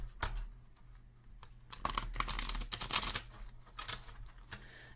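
Tarot cards shuffled by hand make dense, close riffling and clicking bursts in irregular flurries, with no voice.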